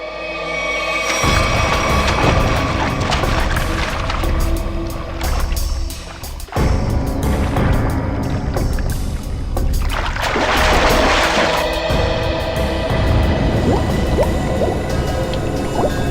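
Two divers plunge into the sea on an underwater mission, with a steady wash of splashing, bubbling and churning water throughout, a sharp break midway, then a heavier surge of splashing near the end, loud and close with no talk.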